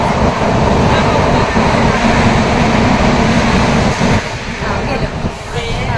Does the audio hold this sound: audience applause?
no